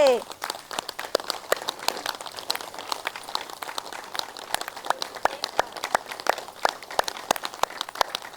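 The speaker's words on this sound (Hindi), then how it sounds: "और अभी सभी लोग क्लैपिंग कीजिए, तालियां बजाइए जोर से।" A group of women at an outdoor yoga session in a lane in Aligarh claps together, steady sharp hand claps repeating for several seconds at moderate distance, with no talking over them.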